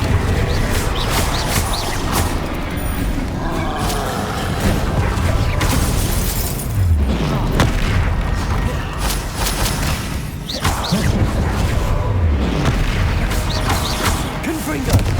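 Confringo fire spell explosions in Hogwarts Legacy, repeated booming blasts and crackling bursts in dense succession, loud and close, while a person talks over them.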